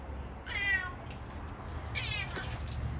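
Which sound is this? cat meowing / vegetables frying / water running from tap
cat meowing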